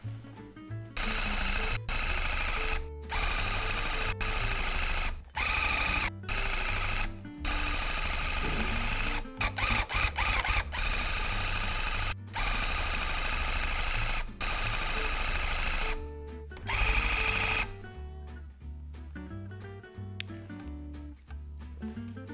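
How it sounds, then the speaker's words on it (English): An electric tufting gun drives yarn through backing cloth while tufting a rug of colorful letters, a loud continuous buzzing run broken by brief pauses throughout, with no talking. "And now we're ready to tuft again."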